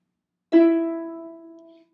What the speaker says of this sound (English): If I'm playing two black strings, that means that I'm playing an F octave